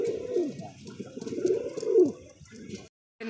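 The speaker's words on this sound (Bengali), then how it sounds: "চমৎকার এক জোড়া কবুতর" A pair of pigeons at a breeder's loft coo in repeated low, throaty phrases at close range, with a brief quiet gap near the end before the cooing resumes.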